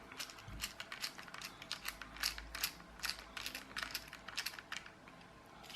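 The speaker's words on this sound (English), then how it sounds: "I prefer this screwdriver just because it's got a magnetic tip." Small screws being worked loose with a magnetic-tipped budget screwdriver from a tinplate clockwork toy train, giving faint, rapid ratcheting clicks and metallic scrapes that come in bursts throughout, close up and quiet, with no talking.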